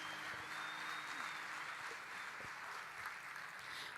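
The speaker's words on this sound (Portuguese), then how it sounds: "Aplauda o Senhor bem forte." A church congregation applauding during a sermon, a broad steady wash of clapping heard faint and distant throughout.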